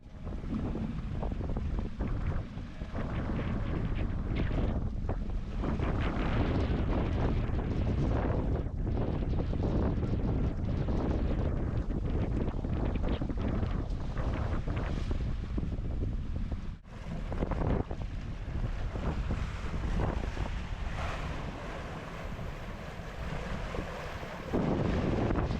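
Powerful wind gusting over 30 roars and buffets the microphone continuously on a sailboat offshore, with rushing water and waves beneath, loud and steady with brief lulls between gusts.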